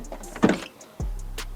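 Land Rover Defender 110 door opened by hand, a short mechanical clunk of the latch followed by a second heavier thud, close and isolated.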